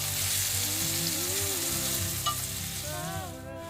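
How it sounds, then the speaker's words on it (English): Sauce poured into a hot wok sizzles fiercely while stir-frying green beans, a loud continuous hiss and crackle with bubbling and a few scraping tones near the end. "Listen to that sizzle."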